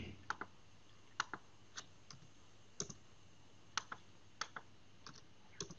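Computer keyboard and mouse clicks during copying and pasting, a sparse series of sharp, quiet taps and clicks at uneven intervals, close and alone.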